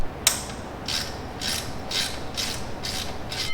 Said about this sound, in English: So now we're going to loosen this with a 5mm Allen